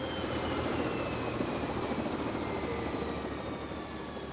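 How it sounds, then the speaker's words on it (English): A helicopter tilting as it flies, its rotor giving a constant whirring drone with a high turbine whine, steady and fairly distant, with no voices. "the helicopter tilting over to give better angle for the shots"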